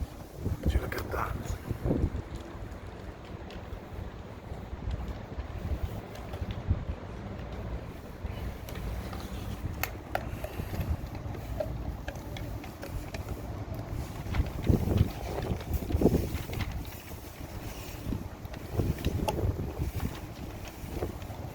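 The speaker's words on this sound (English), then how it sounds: "Quite a windy night." Gusty wind on a windy night buffets the microphone in irregular low-frequency rumbles and thumps, rising and falling in strength throughout, with a speaking voice faintly present underneath.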